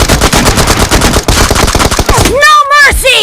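Rapid automatic gunfire rattles loud and continuous in a video game firefight, followed by several sharp ringing electronic tones near the end.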